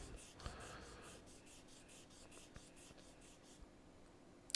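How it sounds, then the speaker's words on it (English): Steady dry rubbing across the front panel of a Marko CB-747 CB radio, sanding it flat to remove marks, a continuous quiet rasp with a sharper knock near the end. "So it takes a while of rubbing."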